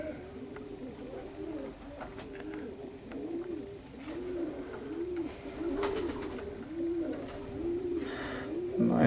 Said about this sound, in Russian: это голуби безотказные